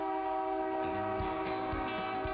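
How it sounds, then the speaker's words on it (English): A train rumbling past right beside a bed and breakfast next to railroad tracks, a loud continuous rolling roar with sustained whistle tones layered over it, close by and without voices. "There was a rumbling, a really loud rumbling, and then they blew their whistle."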